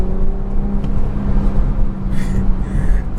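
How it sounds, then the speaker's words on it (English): A stock BMW 340i with the B58 engine accelerating in Sport Plus mode, a steady, fairly quiet interior drone of engine and road noise that rises slightly, heard alone. "Car sounds pretty good though for being stock."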